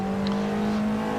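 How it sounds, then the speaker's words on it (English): A TCR touring car at Cadwell Park holds full throttle out of a corner, its engine a steady, loud, close drone with a constant pitch for a brief moment, with no other sounds. "Once we're clear of the corner, we're on full throttle,"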